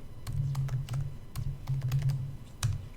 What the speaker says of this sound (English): I'm gonna type ccache again.